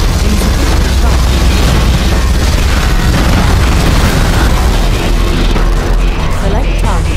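Particle cannon superweapon blast in the real-time strategy game Generals Evolution, a loud, sustained roaring explosion with rumbling low end that fills the whole stretch without a break, easing slightly near the end.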